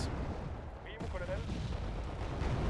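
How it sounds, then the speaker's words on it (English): Video game artillery fire bursts out in a loud, broad boom about a second in, followed by rumbling noise that stays steady to the end, with a faint earlier sound just before it. "Oh, the artillery got one."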